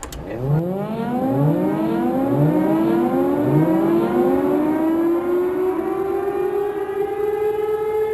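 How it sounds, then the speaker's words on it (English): A tornado warning siren winds up repeatedly in rising wails, then holds a loud, steady howling tone with no voices. "Be advised at the end of this broadcast, the sirens will be activated."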